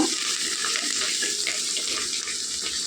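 A continuous stream of water pours steadily from a glass into a cooking pot of jeera rice for a few seconds, close and fairly loud.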